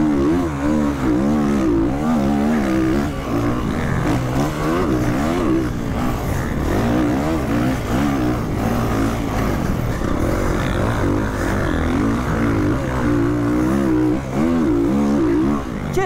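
A two-stroke quad's engine revs hard and continuously in the MX vs ATV racing game, a loud buzzing drone with pitch rising and falling as it accelerates and shifts, alone without talk.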